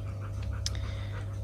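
A nervous dog in a car breathes in quick, steady rhythmic pants, close and fairly quiet over a low engine hum, with a brief rustle partway through.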